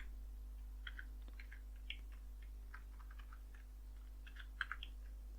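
Keys tapped on a computer keyboard while a command is entered in a Linux install terminal: faint, scattered clicks in short irregular clusters, quiet and close, with no voices.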